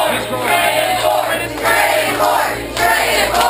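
An outdoor crowd at a summer camp fancy night cheers in a steady, sustained roar that swells and dips in waves, with shrill whistles and yells running through it.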